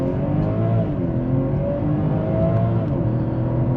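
A 2021 BMW 540i xDrive with its inline-six engine revving and pulling under acceleration, a steady close droning growl with shifting harmonic tones inside the cabin.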